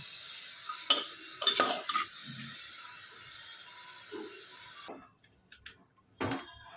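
Vegetables and chicken fry lightly with salt in a pan, with a faint hiss and a few sharp, close spatula scrapes and clatters as the mix is stirred.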